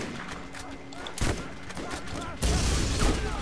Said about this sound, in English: Shot the freaking shock barrel next to me.